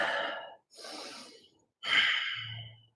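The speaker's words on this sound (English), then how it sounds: "take a minute, take a big breath" Someone takes big deep breaths during a breathing and relaxation session: a long loud exhale, a shorter airy inhale, then another strong breath ending in a low rumbling sigh, close and with no other sound.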